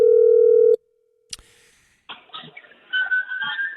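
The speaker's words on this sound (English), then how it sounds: "We need to call Jake" A steady telephone tone cuts off, followed by a click and then line noise with faint tonal chirps as a call is placed to a radio show guest.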